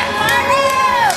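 Crowd at a WAW Hellbound wrestling event cheering and shouting loudly, with high whoops and yells rising over a dense roar that carries straight through, close and energetic.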